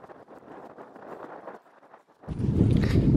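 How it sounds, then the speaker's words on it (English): Strong wind on the Weston-super-Mare seafront buffets the microphone with a steady rumbling roar, easing briefly before surging into a louder, deeper gust near the end. "sorry if you can't hear it because it's very windy. It just suddenly got very windy"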